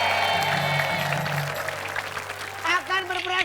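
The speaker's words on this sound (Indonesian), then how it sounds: "tepuk tangan dulu dong" A crowd clapping and cheering steadily, fading slightly toward the end as a few voices rise over it.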